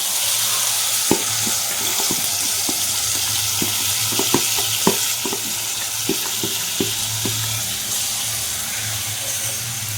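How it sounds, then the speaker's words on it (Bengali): A dragon fruit and rice mixture frying lightly in a pan, a constant loud sizzle with regular spoon taps and scrapes throughout, close up and alone. "এবার এখানে আমি এটা হালকা করে ভেজে নেব"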